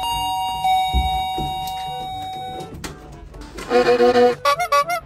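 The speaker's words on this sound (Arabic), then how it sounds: "ولك يا بني ادم مو قلت لك ما تدق الجرس انا؟" Doorbell chiming with a sustained ringing tone at the start, followed by a rapid series of loud, repeated electronic ding-dong pulses near the end, heard indoors.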